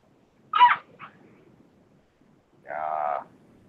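Dogs in the background of a home room give two short vocal bursts, a quick yelp and then a longer whining bark, separated by quiet and fairly distinct.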